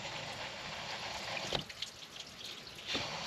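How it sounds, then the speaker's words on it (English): Water drains from a heater core hose into a pan on a 4th gen Ram. It comes as a quiet, steady trickle with a couple of soft splashes near the end. "draining the rest of that water from the other hose into my"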